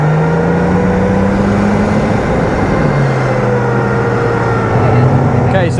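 An AMX-13 light tank driving at a military show, its engine a loud, constant heavy drone with shifting pitch, close by and filling the whole stretch with no break.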